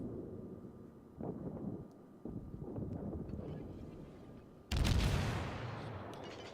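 Naval guns booming in World of Warships: muffled distant thuds during a smoky engagement, then one loud close blast that rolls off into a long fading rumble, no voices.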